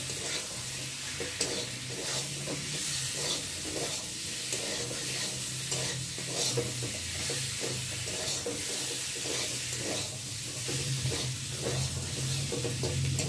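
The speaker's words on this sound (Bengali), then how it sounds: "এই মশলাটা ভালোভাবে কষিয়ে নেব।" Spice paste of ground ginger, tomato and salt sautés in a pan, giving a steady close sizzle with repeated scraping stirs throughout, no talking.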